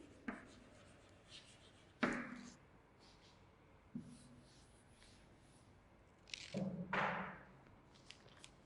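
Chalk or marker writing on a classroom board, heard as a few scattered scratchy strokes and taps separated by quiet gaps, with one longer rubbing stroke near the end and no talking.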